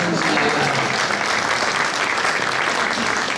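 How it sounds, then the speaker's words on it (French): Dense, loud audience applause at a municipal election campaign meeting, a steady even roar of many hands clapping with no break. "vous pouvez m'applaudir aussi"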